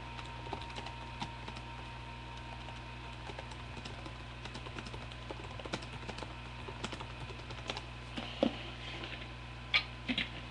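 Quick, irregular clicks from a computer keyboard being typed on continue close by throughout, with a low steady room hum beneath them.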